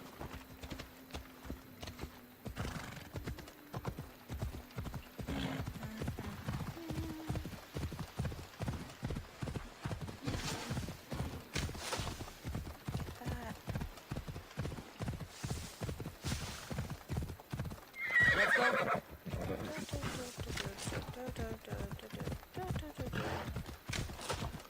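Rhythmic clip-clop of horse hooves at a steady gallop through the Assassin's Creed Odyssey game world, with a loud whinny partway through and faint talking at the start.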